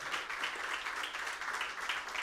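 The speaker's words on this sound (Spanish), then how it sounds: "Dale fuerte el aplauso al Señor" Church congregation clapping in praise to the Lord, a steady, dense wash of applause sustained throughout at moderate level, with no clear voices over it.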